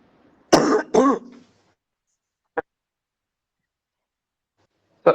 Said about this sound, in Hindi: थोड़ा खांसी हमको हो गया है